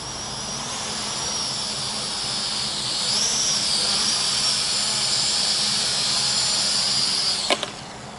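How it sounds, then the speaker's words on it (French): A Hubsan FPV X4 Desire H502S quadcopter drone coming in to land, its propellers giving a steady high-pitched whine that shifts pitch midway and then cuts off with a brief click near the end. "On va maintenant faire atterrir le drone."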